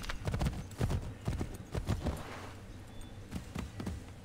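A horse gallops in Assassin's Creed III Remastered, its hooves landing in quick, close, rhythmic clip-clops with no other sounds.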